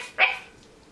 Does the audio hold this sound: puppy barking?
yes